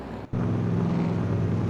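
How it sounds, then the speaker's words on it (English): In a Daytona 75 race video game at Daytona International Speedway, a damaged race car's engine keeps running after a brief cut, a steady low hum under faint background noise. "sounds like his engine is still running."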